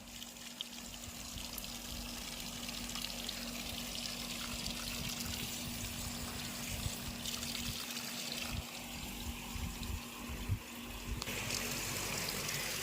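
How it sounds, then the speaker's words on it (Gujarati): Hands being washed under running water outdoors at a farm, a steady continuous splash and trickle throughout, with no talking. "હવે સંગીતા ધોવે છે હાથ"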